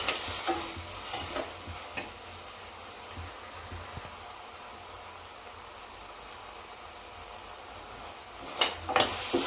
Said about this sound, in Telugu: కొంచెం టమోటా మెత్తగా అయినంతవరకు వేయించుకోవాలి